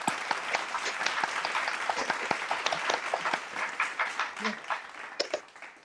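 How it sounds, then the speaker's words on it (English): Audience applause after a performance at an online annual concert, many distinct hand claps layered together, gradually thinning out toward the end with a brief voice. "Another round of applause as well to Alexander for putting it all together."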